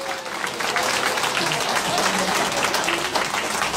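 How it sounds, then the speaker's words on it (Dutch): Steady audience applause for sponsors at a Hindu temple gathering in Wijchen, a continuous dense clapping wash with faint voices mixed in. "een applaus alsjeblieft."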